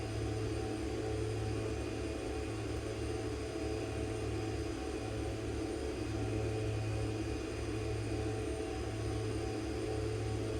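A simulated aircraft engine holds a steady, loud drone with a broad hiss during the climb after takeoff over Lake Tahoe in X-Plane, unchanging and continuous with no voices.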